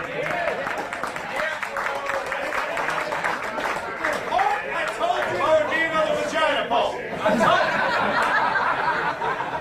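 A large crowd at a live poetry concert claps and cheers steadily throughout, a dense wash of applause mixed with scattered laughter.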